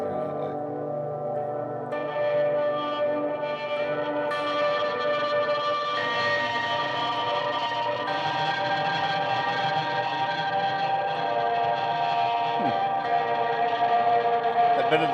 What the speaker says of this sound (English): That bit of distortion, though, as it kind of fades out,